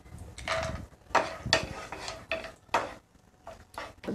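Almonds added to cashews frying in a pan for milk payasam, heard as a metal spoon scraping and clinking against the pan in uneven strokes, with a faint sizzle underneath. No voice is heard.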